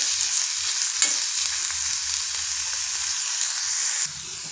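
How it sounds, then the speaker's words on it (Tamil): Grated coconut sautéing in ghee in a pan sizzles in a steady, close frying hiss, with faint stirring scrapes now and then and a slight drop in level near the end. "தேங்காய் இந்த நெய்யிலே கொஞ்சம் வதங்கட்டும்"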